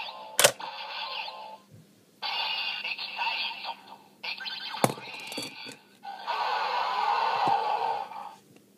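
A Kamen Rider Wizard DX driver toy plays its Excite ring sound: loud electronic bursts with a sharp click and a roar-like blast, separated by brief pauses, close and on its own.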